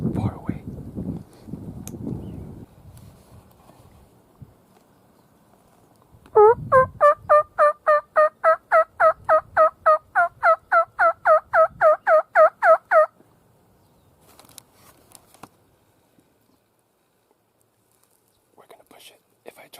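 A wild turkey on California public land gobbles in a rapid, loud, rhythmic run of about twenty pulses lasting several seconds, after a stretch of hushed whispering and rustling outdoors.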